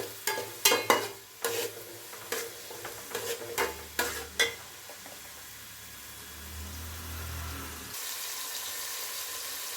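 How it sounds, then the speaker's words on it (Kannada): Chopped onion and green chilli frying in a little oil, opening with loud clattering stirs and scrapes of a spatula in the pan, then settling into a softer continuous sizzle, no talking. "ಸ್ವಲ್ಪ ಎಣ್ಣೆಲಿ ಸ್ವಲ್ಪ ಚೆನ್ನಾಗಿ ಫ್ರೈ ಆಗಲಿ ಈರುಳ್ಳಿ ಹಸಿಮೆಣಸಿನಕಾಯಿ"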